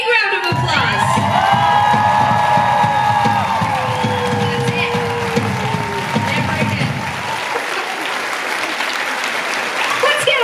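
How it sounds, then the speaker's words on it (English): Concert crowd at Rockefeller in Oslo applauds and cheers the touring crew after a show, loud dense clapping with whoops and shouts filling the room, fading away near the end. "big round of applause"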